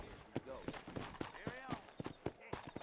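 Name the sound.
horse trotting in the video game Red Dead Redemption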